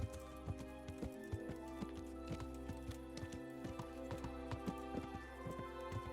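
Horse hooves clip-clop at a steady walking rhythm in the medieval game Kingdom Come: Deliverance, regular close taps over a low droning ambient bed with no talk.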